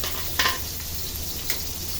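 Minced garlic, onions and young ginger sautéing in a pan for chicken broccoli, a steady close sizzle with a couple of brief scraping stirs.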